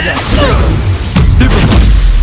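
A Bombarda explosion spell goes off in the game Hogwarts Legacy, a loud, deep boom with rumbling low end and a few sharp cracks layered over a busy combat background.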